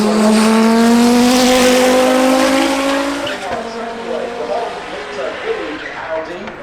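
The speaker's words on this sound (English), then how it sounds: "From Audi, this is the R5." An Audi R5 diesel race car at the Goodwood Festival of Speed 2019 hill climb roars past loudly up close, its engine note rising then fading as it moves away, with talk over it.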